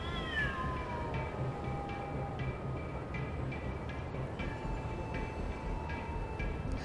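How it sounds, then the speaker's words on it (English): Cats fight in an alley in Watch Dogs (2014), with a drawn-out descending yowl and caterwauling over a dense, rumbling city ambience that includes train-like noise, fairly loud and continuous. "apparently Chicago has a serious cat problem, because the same cats are fighting in nearly every alley"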